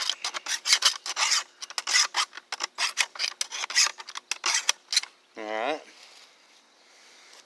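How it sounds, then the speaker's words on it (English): Hand file rasping along a garden hoe blade in rapid back-and-forth strokes, a dense run of scraping passes, followed by a short tonal scrape and quieter residual noise at the end. "when I sharpen the hoe, I push forward, but I also drag across at the same time."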